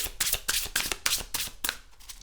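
Oracle cards are shuffled by hand in quick repeated riffles, about seven crisp bursts of rustling close to the listener with no talking.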